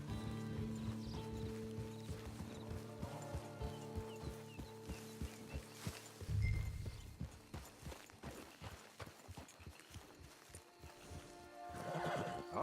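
Horse hooves clip-clop at a steady walking pace in Red Dead Redemption 2, with close, regular thuds running the whole way through and growing slightly louder near the end.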